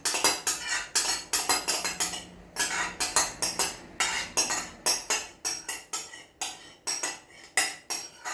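A spoon clinks and scrapes repeatedly against a bowl while yogurt is stirred in a kitchen, giving a steady rhythm of close, crisp taps with no talking.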